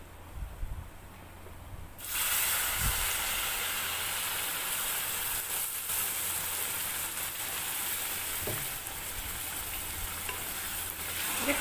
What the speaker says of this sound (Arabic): وهنحط بقى الميه السخنه